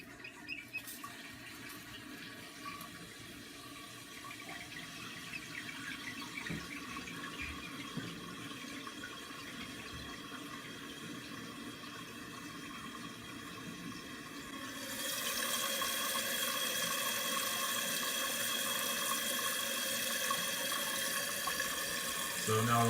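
Water rushes into a toilet tank through a fill valve after a running-toilet repair, a low flow that surges into a louder, steady hissing fill partway through.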